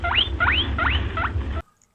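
A rabbit gives four quick, rising squeaks at a steady rhythm, close and fairly loud over a low background rumble, then stops abruptly into silence.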